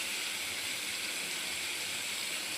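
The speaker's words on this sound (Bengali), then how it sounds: "এখন দিয়ে দেবো আমি সবজিগুলো।" Vegetables hit a hot pan and give off a steady, even sizzling hiss that stays at a constant level throughout, with no one speaking.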